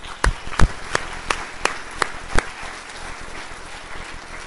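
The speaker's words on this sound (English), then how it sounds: "So one more round of applause for them" A handful of scattered hand claps, about six sharp ones, over a low murmur of a room at the close of a talk on open science.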